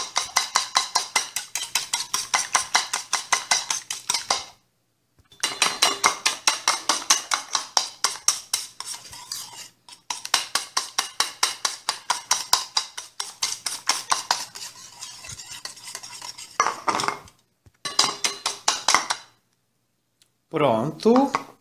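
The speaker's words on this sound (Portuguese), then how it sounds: "a gente vai misturar tudo aqui agora, ó, com esse fouet aqui" Wire whisk beating a mixture in a bowl, part of a breaded eggplant gratin preparation: rapid rhythmic clinking strokes in bursts of several seconds separated by short pauses, close and fairly loud, with no talking.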